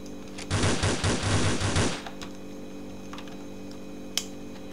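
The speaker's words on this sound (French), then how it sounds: "Ça c'est le flingue de gros bourrin." A heavy gun in the Blockland video game fires a rapid burst of loud, close shots for about a second and a half, then falls to a quiet background with one faint sharp click later.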